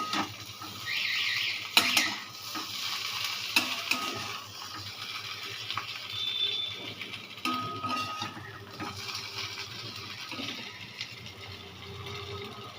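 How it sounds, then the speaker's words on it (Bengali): Boiled potatoes fry with cumin and dried chilli in a pan, a spatula scraping and stirring through a steady sizzle, with occasional metallic clinks over about thirteen seconds. "তারপর আলুটাকে নাড়ছি।"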